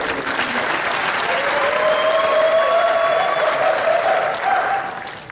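A rowdy crowd at a US Senate debate applauds loudly and continuously for about five seconds, with a whistle or cheer cutting through the clapping before it begins to fade at the end.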